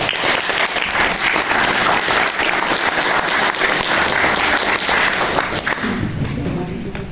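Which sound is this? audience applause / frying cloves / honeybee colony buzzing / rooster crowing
audience applause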